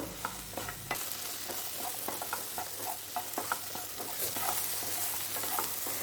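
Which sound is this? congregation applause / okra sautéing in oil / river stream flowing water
okra sautéing in oil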